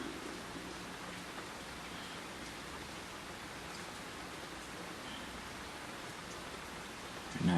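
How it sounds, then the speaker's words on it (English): Steady rain hisses evenly and softly throughout, a constant wash of falling drops with no voices. "It's raining. Raining like a bugger right now."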